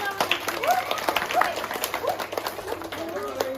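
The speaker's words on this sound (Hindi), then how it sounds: "एक बार इन बच्चों के नुक्कड़ नाटक के लिए जोरदार तालियां।" Applause from an audience after a children's street play on plastic pollution awareness, short mixed clapping with voices and chatter underneath, moderately close.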